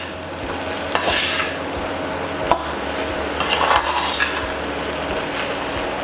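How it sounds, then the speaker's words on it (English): Food for a Chinese dish sizzles steadily in a hot pan while a utensil stirs and scrapes through it, with a few sharper knocks against the pan over the constant frying hiss. "keep stirring this up, making sure that's nicely fried up"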